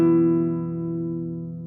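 A single guitar strum with the bottom string muted, the chord ringing steadily and fading gently over about a second and a half, close and unaccompanied.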